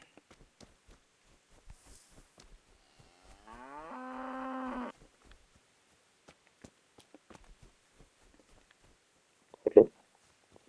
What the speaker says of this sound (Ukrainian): це корова, це не бик. І це теж корова